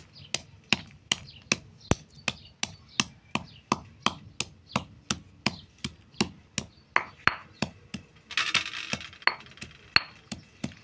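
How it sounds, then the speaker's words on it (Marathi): Almonds being finely chopped with a knife for rava ladoo, cooked over a wood-fired stove: steady rhythmic knife chops on a board, about two per second and close up, then a short burst of rattling and clinking near the end. "बदाम पण बारीक करून घेऊया छान."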